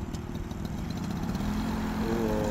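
Suzuki RC motorcycle, tuned by Tekno Tuner, running on a street test drive with a steady mid-pitched engine drone that holds throughout and rises slightly toward the end, with no talk over it.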